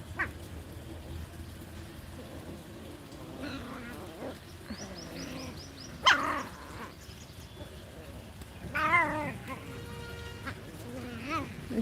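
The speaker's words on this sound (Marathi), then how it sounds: "पिल्ले बघा कसे मस्ती करायले ते बघा भांडणं चालू आहेत" Kittens play and fight, letting out a few faint, thin meows and squeaks over a quiet background while a person talks nearby.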